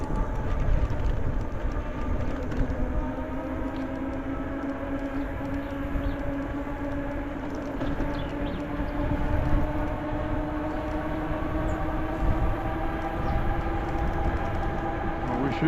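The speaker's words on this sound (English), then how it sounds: "Should be coming up to the caboose here pretty soon." A freight train passes a bike trail with a continuous loud rumble and rolling rail noise, and a droning horn-like tone runs steadily through the whole passage; no one talks.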